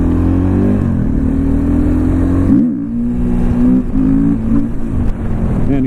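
A 2014 KTM 450 XC-W motorcycle set up as a supermoto revs loudly and close, its engine note rising and falling through several throttle blips over a steady running drone, with no talking.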